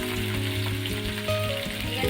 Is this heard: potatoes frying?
yes